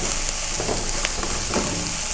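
Masala fried rice with egg and capsicum sizzles steadily in a pan while being stirred, a dense, close, continuous crackle with faint scraping strokes and no talking.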